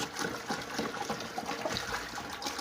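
Water poured into semolina for sooji halwa, a large batch of about ten litres going into two and a half kilos of sooji, making a steady, moderately loud trickling and splashing wash with no speech.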